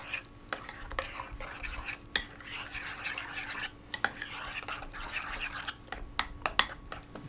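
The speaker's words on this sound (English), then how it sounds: "I'm just going to give it a nice stir." A spoon stirring tzatziki sauce made with garlic and lemon juice in a bowl, producing soft wet swishing and scraping, with occasional light clinks against the dish, up close and without talking.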